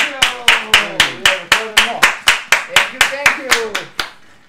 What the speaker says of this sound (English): Clap it up for the chef, y'all!